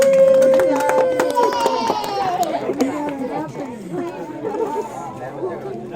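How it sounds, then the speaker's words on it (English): A small crowd of visitors at the Mystery Spot in the Santa Cruz redwood forest claps briefly, scattered hand claps mixed with lively chatter and voices talking over it. "Give these two a round of applause."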